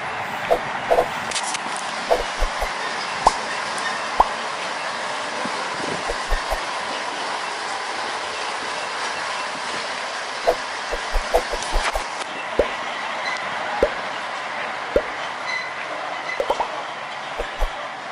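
A lorry locomotive rolls slowly along an old, long-disused rail line through a village, a steady rumbling drone broken by irregular sharp clacks from the wheels over rail joints, loud and close.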